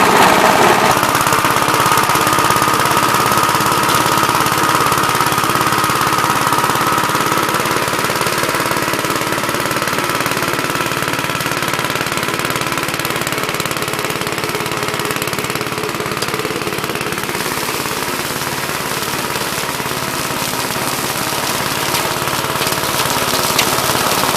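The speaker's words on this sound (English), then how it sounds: "I'm going to mow a little bit down here in the corner" A Big Blue 53 L tractor mows a corner patch, its engine a steady, loud broadband drone that runs continuously close by with little change in level.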